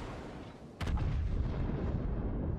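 Armor-piercing shells from a Des Moines cruiser strike in a naval battle game: a single sudden heavy boom, followed by a loud, sustained rumbling roar.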